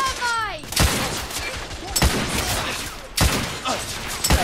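Heavy gunfire in The Order: 1886 on PS4: sharp shots crack out at irregular intervals over a dense, rumbling battle din with debris and whizzing ricochets.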